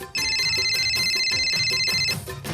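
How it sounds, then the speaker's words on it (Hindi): A mobile phone rings loudly and steadily with a bright electronic ringtone that repeats a rapid tonal pattern for about two seconds before it cuts off. "इतने में अचानक मोबाइल की घंटी बजी।"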